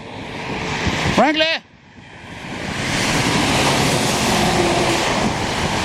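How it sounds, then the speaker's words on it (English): Loud, rough wind buffeting the microphone beside Notre-Dame Street and Highway 20 in Montreal in winter, a broad roar that swells and stays constant, briefly broken by a short rising tonal sweep. "I didn't realize how windy it was until I turned around."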